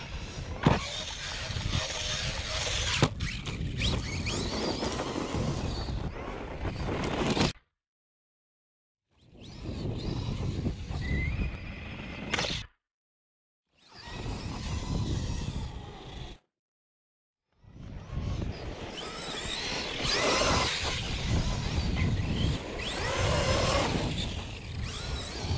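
An Arrma Kraton 4S RC truck races past at high speed, its electric motor whining loudly in long bursts separated by brief silences, with wind and outdoor noise around it.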